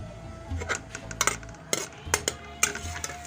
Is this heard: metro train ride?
no